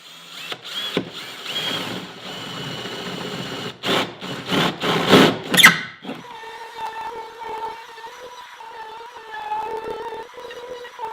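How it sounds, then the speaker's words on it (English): A power drill whirs in several short bursts as it bores into wood, followed by a steadier mechanical hum. "Now we can drill the holes for all our openings."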